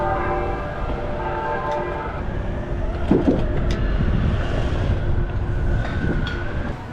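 A train rumbles past up close, its horn sounding in a long steady blast over the clatter of the rail cars, with a few squeals partway through.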